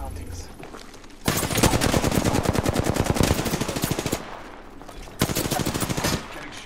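Automatic gunfire in Apex Legends comes in two dense, fast bursts: a long stream lasting about three seconds, then a shorter one about a second long, fairly close and loud against quieter game ambience.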